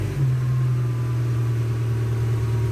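A cold Peugeot 306 engine runs close by with a steady, low idling rumble that holds evenly from the first moment to the end, with no voices.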